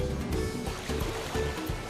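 River water flows in Final Fantasy XIV Dawntrail, a continuous close rushing and burbling wash that stays loud and steady under a pulsing low backdrop.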